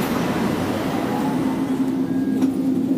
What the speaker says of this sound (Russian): Вот трамвай подходит, сейчас поедем.